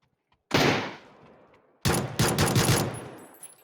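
Gunfire in a video game: one sharp shot followed by a decaying tail, then a rapid burst of several loud, close shots in quick succession, with no talking.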